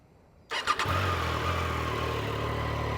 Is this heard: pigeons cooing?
no